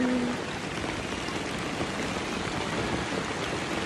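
Steady rain falls in a dense, even hiss of drops that holds unbroken and fairly loud throughout.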